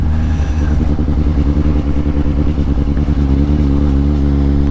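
A sport-style naked motorcycle rides along a road in southern France, its engine droning loud and steady with rhythmic pulsing throughout, close to the listener and with no talking.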